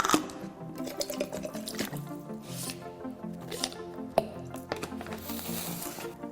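Water and an electrolyte-and-carb drink mix go into a bottle with soft sloshing, squishy liquid sounds and scattered sharp plastic clicks and taps, close and fairly quiet, no talk.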